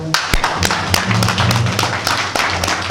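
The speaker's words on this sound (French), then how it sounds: "que je vous invite à féliciter debout, avec acclamation nourrie et prolongée" A standing crowd applauding an elected party candidate at a federal council session, with sharp uneven claps and thuds ringing out over a low rumble of voices.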